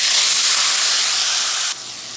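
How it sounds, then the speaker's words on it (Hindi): Boiled onions and garlic hit hot oil with a loud, close, hissing sizzle that holds steady, then drops abruptly to a quieter sputter near the end. "अब मैं इसे ये गर्म ऑयल में डाल रही हूँ।"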